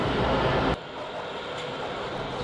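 Washington DC metro train in an underground station, a loud broadband rush that cuts off sharply, then a lower steady rumble and rail noise continuing nearby.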